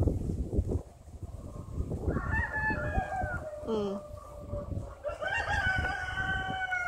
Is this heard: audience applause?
no